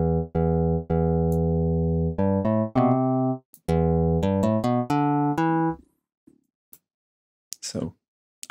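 Synthesized waveguide physical-model patch with adjustable stiffness, position, impulse size and noisiness, playing a run of loud, bright plucked-string-like tones with clear pitches that change as it goes, then fading to near silence and a few faint clicks.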